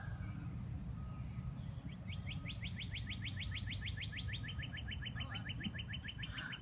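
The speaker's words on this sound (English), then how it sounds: "Oh, the birds are so nice." Birds chirp outdoors on a sunny day, a rapid trilling series and scattered single tweets sounding moderately near over a steady low background rumble.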